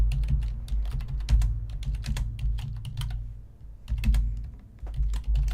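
Fast, irregular clicking of computer keyboard typing, close and clear, in quick bursts with short pauses.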